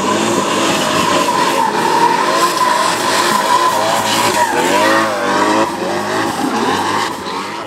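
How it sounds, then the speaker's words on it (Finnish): V12-engined race car running badly, a loud, rough, continuous engine roar that wavers in pitch as it runs, close and unbroken throughout. "Kuuluu ihan luurien läpikin, että kuulostaa aika pahalta ja kyseessä siis V12-kone."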